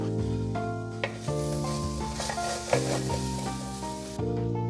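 Ginger and garlic fry in a pan with a soft, steady sizzle that sits beneath sustained tonal background music.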